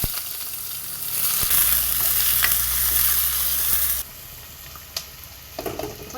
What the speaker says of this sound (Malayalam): അങ്ങനെ ഇപ്പൊ ഉള്ളി ഇട്ട് കൊടുക്കാം.